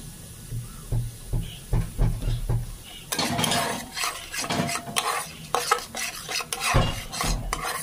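A spoon stirs fish curry masala with fresh cream in a pan, scraping and clinking against the metal over a steady hiss of frying that grows louder midway, close and with no voices.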